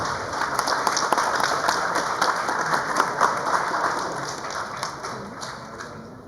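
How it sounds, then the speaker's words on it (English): Loud applause rises from the audience at a ceremony in Sindh, a thick, even roar of many hands clapping that slowly tapers off toward the end. "amidst loud applause, to please come forward"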